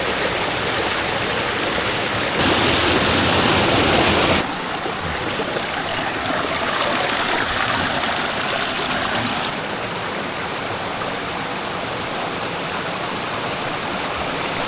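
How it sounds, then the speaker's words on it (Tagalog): A small waterfall pours over red rock on a hike in Real, Quezon, a steady close rushing of water that swells louder for a couple of seconds early on, then settles into an even flow with no voices. "And some mini falls over here."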